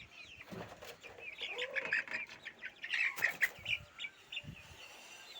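Three-month-old native chickens in a coop cluck and chirp in short, scattered bursts, with occasional wing flutters, fairly close and moderately quiet.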